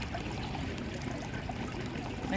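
Water flows steadily in a garden fountain at a new shopping mall, a continuous splashing trickle at moderate level with a faint background murmur.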